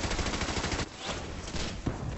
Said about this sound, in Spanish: Tabb sucumbió a los disparos de las ametralladoras alemanas